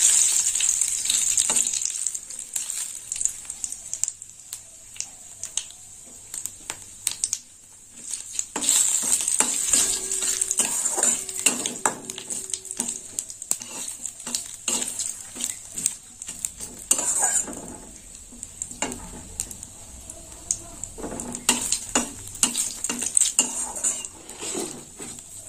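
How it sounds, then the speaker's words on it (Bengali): Whole cumin, dried chilli and a bay leaf tempering frying in hot oil for a banana flower dish, with a steady sizzle broken by repeated clinks and scrapes of a utensil against the pan; no talking. "ফোড়নটা একটু ভাজা হবে"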